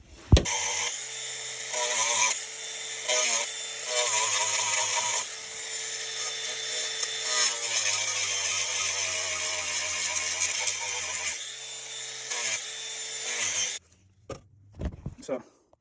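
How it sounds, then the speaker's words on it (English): A DeWalt power tool grinds and whines steadily while cutting through the plastic cover of a 1996-1998 Jeep ABS pump module. The pitch wavers as the tool works, then it stops, followed by a few handling knocks. "So I'm going to use the DeWalt to cut right above that crease."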